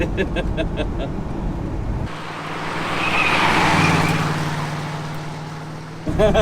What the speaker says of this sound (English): Did you hear the tires squealing?